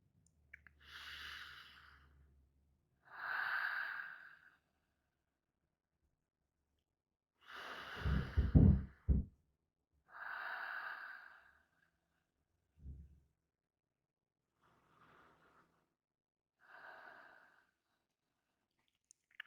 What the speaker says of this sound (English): just notice forming those long inhales and long exhales